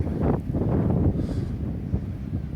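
Wind blows hard across the microphone on an overcast beach by sand dunes, a loud continuous low rumble and buffeting that fills the whole moment with no talking.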